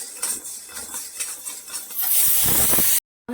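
Sago pearls dry-roasting in a pan on low gas while a spoon stirs them, giving close, loud rattling scrapes that build into a dense hissing rush before stopping abruptly.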